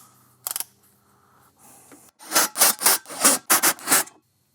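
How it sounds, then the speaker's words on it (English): A 7/16 socket tightens battery-tray bolts on a second-generation Toyota Tacoma, giving a quick clicking burst and then a run of rhythmic ratcheting strokes, close and fairly loud. "we'll tighten those bolts down with a 7/16 socket"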